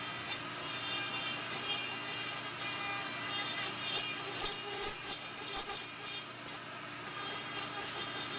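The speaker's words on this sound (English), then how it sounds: "I'm going to use one of these Brasler burrs. It's just a lab burr" A Brasler lab burr trims the edge of a denture baseplate with a steady, close, high-pitched grinding rasp that carries on almost without a break and dips briefly near the end.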